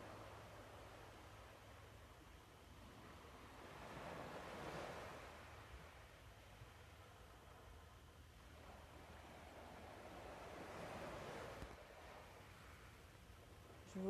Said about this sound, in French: Je vous laisse quelques respirations avec le son des vagues en accompagnement